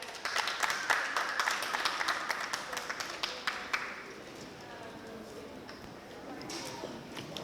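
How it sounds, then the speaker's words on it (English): A crowd at an open mic night claps in a burst of sharp, rapid applause that fades after a few seconds, leaving quieter room noise. "Clap it up for Trayvon, you guys"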